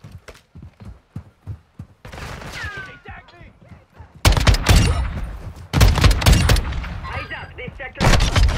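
Shotgun fire in Call of Duty Modern Warfare 2 online play: a run of light pops, then loud, heavy booming blasts in bursts with echoing tails, under excited talk.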